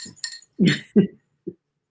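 Glass clinking as an old blind and deaf dog brushes past a water glass indoors: a few light taps and knocks, close by, spaced out over a couple of seconds with quiet between.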